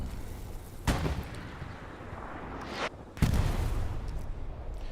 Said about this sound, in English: Nice long-range rocket comes in